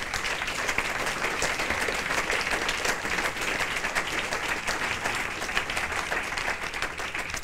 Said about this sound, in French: je vous propose de l'applaudir quand même.